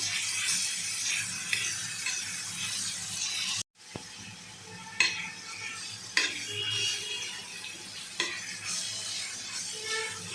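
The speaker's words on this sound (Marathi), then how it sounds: "ठेचा आपला चांगला परतून घेऊया आपण याच्यात" Prawn thecha with garlic sautéed in a pan, a continuous close sizzle with occasional clinks and scrapes of a spoon as it is stirred, briefly interrupted by a short gap.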